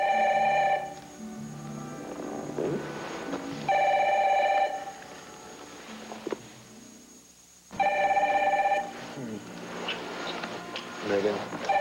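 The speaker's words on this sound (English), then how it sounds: "I gotta answer the phone." Telephone ringing in a 1988 soap opera scene, three loud bursts of electronic trilling spaced several seconds apart, with quieter voices and room sounds between the rings.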